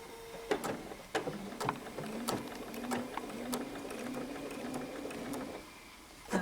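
Domestic sewing machine stitching binding onto a quilt, a steady close mechanical whir running most of the stretch with sharp clicks at the start and end.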